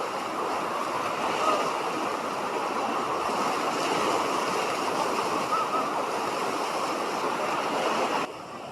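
Water at Tham Phra waterfall pours down in a steady, loud, close rushing roar that runs without a break, dropping slightly in level near the end. No voices are heard.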